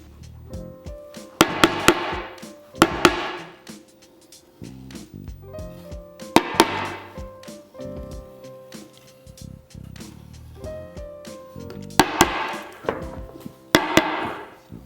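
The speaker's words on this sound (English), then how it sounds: "got my little hammer, and you just hammer those down so it's nice and smooth" Small hammer tapping down snapped-off staples on a chair seat: clusters of quick sharp metallic taps separated by short pauses, close and moderately loud, with no speech.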